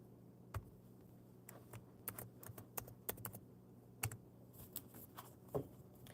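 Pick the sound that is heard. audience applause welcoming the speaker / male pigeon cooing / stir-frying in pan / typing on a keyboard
typing on a keyboard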